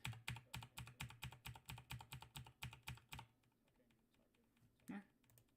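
Rapid computer keyboard typing, a fast regular run of clicky keystrokes for about three seconds, then it stops into quiet room tone with one soft thump near the end.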